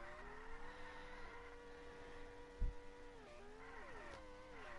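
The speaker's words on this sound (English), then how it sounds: "The tyres are sliding now." Tyres slide and squeal in an F1 racing video game as steady engine tones hold, then pitch down and waver while the car slides, with a brief thump near the middle.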